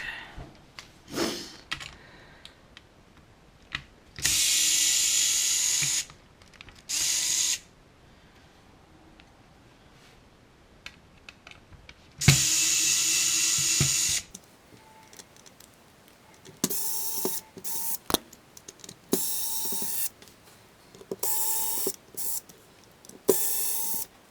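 Screws come out of a Game Boy DMG handheld with a screwdriver, heard as close, bursts of whirring, each a second or more long, separated by quieter gaps with small clicks and handling noises.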